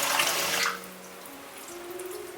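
Tap water runs over pig intestines being washed in a sink, a loud rushing stream that drops to a softer, gurgling flow partway through.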